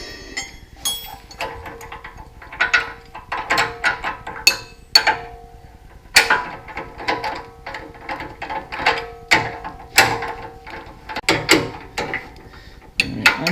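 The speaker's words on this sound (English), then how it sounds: "Now it's just tightening everything up." Bolts are tightened on a 2007-2018 Jeep Wrangler JK during a 3.5-inch Rough Country lift kit install, with a ratchet wrench clicking in quick uneven bursts, close and fairly loud throughout, with no talking.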